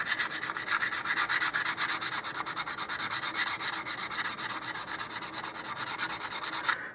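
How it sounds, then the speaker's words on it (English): Modeling putty on a model rocket nose cone is sanded with 150 grit sandpaper in steady, rapid back-and-forth strokes, a close, continuous scratchy rasp with a regular rhythm that stops abruptly at the end. "Here I'm going to start with 150 grit sandpaper, and then I'll work my way up to 220 and possibly 320."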